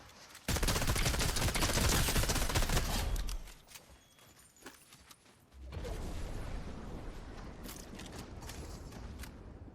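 Dense video game gunfire in a shootout: a loud, continuous roar of rapid shots for about three seconds, a brief lull with scattered pops, then another sustained stretch of heavy shooting.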